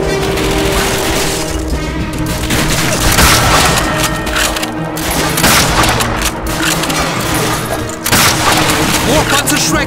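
Dense World War II battle from Call of Duty: Finest Hour on PS2, with Panzerschreck rocket blasts and constant gunfire booming and crackling nonstop, loud and close, while soldiers shout over the chaos.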